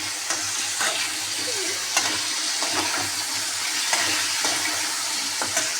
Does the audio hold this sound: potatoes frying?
yes